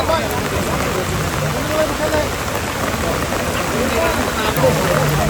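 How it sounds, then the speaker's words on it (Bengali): Dense, steady hiss of heavy rain falling continuously during an outdoor fishing competition in Kushtia, with a low engine-like rumble underneath and faint voices. "এদিকে প্রচুর বৃষ্টি হচ্ছে"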